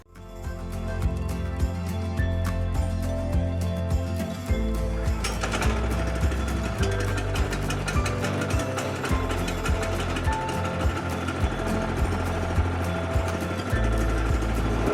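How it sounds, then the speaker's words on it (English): A Woodland Mills sawmill's Kohler engine runs steadily at close range, a loud continuous mechanical chatter with rhythmic knocking that briefly rises in pitch midway. "Love that Kohler engine, man."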